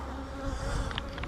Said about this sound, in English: Golly, they're still full of bees, even with 2 honey supers on it